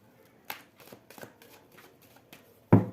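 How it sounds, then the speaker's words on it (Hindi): Tarot cards being shuffled by hand in short soft riffles, ending in a sharper snap of the deck, close and quiet with no talking. "Last सफलिंग, thank you universe."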